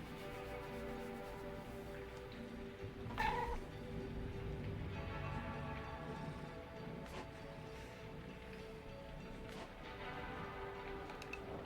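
A pet cat in the video game Lost Records meows repeatedly over a steady ambient backdrop, the calls drawn out and plaintive, moderately close against a constant low hum of music and atmosphere.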